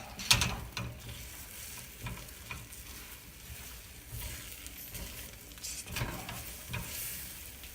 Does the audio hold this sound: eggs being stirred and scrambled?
yes